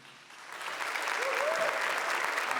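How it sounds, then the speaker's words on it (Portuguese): Congregation at a Catholic gathering breaking into applause, a steady wash of clapping that swells in the first second and holds at full strength, with a brief faint voice in the middle. "vamos aplaudir a Eucaristia"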